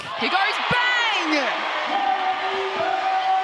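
A crowd cheers and whoops throughout a women's basketball game between the Canberra Capitals and Perth Lynx, a steady loud roar with a ball bounce and excited commentary voices over it.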